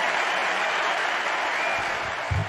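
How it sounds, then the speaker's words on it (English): Loud, continuous applause and cheering from a crowd during a livestream show, a steady wash of claps that barely fades, with a brief low thump near the end and no speech. "That deserves a cheer."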